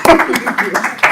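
A man gives himself a few sharp claps at a District 118 school board meeting, a handful of quick hand strikes over roughly a second with talk around them.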